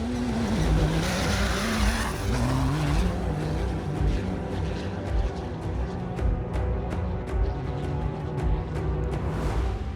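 A rally car races over mixed desert terrain of riverbeds, gravel and sand, its engine droning loud and rough and rising in pitch, with gritty crunching and spraying stones, then passing ticks in the later part.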